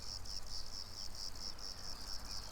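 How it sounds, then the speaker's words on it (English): Crickets chirp steadily on a farm in Portugal, a dense, regular high pulsing trill repeating through the clip over a low outdoor rumble, with no talk. "You can hear lots of crickets."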